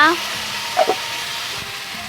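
Meat cooking with spices in a pan over a wood fire sizzles steadily and close up, with a brief clatter of stirring partway through.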